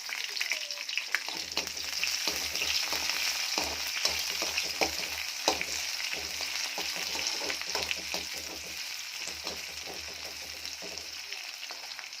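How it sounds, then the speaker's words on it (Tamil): Onions and curry leaves frying in a pan, a steady bright sizzle running throughout with repeated scraping and stirring taps over it, close and fairly loud, with no talk. "நல்லா வெங்காயம் வந்து நல்லா பொன்னிறமாக வந்துருச்சு"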